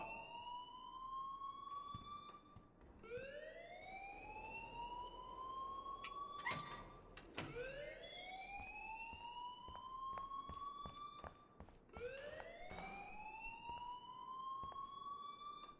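A school alarm from the video game Life Is Strange wails in rising, siren-like sweeps that repeat every few seconds, with a few sharp clicks between the cycles, steady and moderately quiet with no talk over it.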